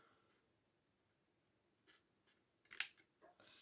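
Scissors cut paper at an angle in a few faint, quiet snips, with a sharper crisp cut near the end.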